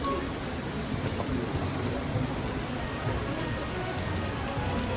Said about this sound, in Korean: 비가 와요. 미친 듯이 와요.